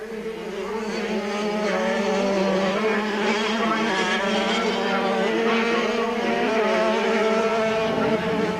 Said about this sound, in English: a nice little battle for third had developed between Michael Koch on his Suzuki and Lawrence Mahoney on another Suzuki